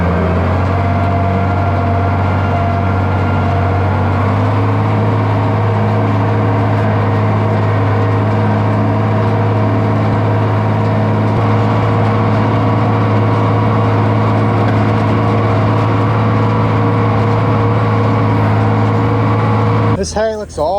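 A Case tractor with fuel trouble runs while raking hay, giving a loud, steady engine drone with a low, even hum that holds throughout, close by.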